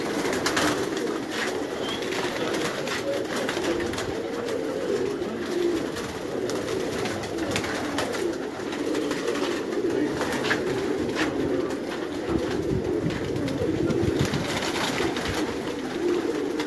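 A flock of pigeons at a Karachi loft coos without a break, a dense, continuous murmur of many birds with flutters and scuffs mixed in.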